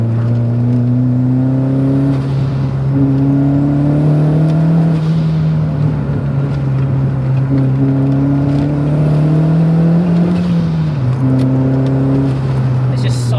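A 525bhp Renault Megane 225 engine revving hard in a car, rising and falling in pitch with gear changes, loud and close, while people talk over it.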